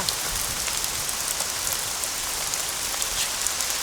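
Heavy rain falls steadily and close by, a dense, even patter on surfaces with scattered sharper drops and no voices.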